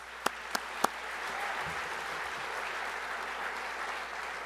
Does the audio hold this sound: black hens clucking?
no